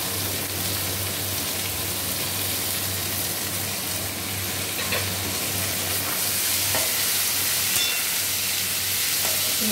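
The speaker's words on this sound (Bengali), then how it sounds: "ভালোভাবে নেড়ে দেব। আলু আর রসুনের সাথে পেঁয়াজটা ভালোভাবে মিশিয়ে নেব।" Chopped onion, potato and garlic sizzling in a pan while being stirred, a steady, loud frying hiss with occasional scrapes and clicks of the utensil throughout.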